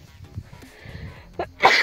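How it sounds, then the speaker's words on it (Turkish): A single sharp sneeze breaks out near the end, close and loud after quiet outdoor background noise under a hot sun near fig trees. "Ay hapşırasım geldi."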